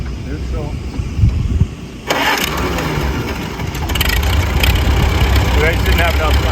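A 1945 Farmall A tractor engine cranks and catches about two seconds in, then settles into a loud, steady idle close by, with brief voices before it starts.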